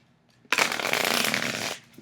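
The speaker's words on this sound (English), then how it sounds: "And here's how the shuffle looks." A tarot deck of slightly thick, sturdy matte cardstock with gilded edges being shuffled up close: one continuous papery riffle lasting just over a second, crisp and steady, with no voices.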